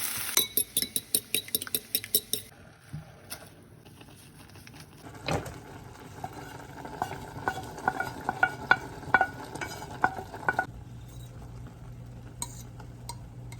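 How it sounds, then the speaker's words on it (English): Utensils clink and scrape against a pan as the white parts of green onions and peppers fry with a steady background sizzle, sharp metallic taps clustering early and again midway. "First, I'm frying up the white parts of the green onion and the peppers."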